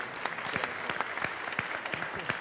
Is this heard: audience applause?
yes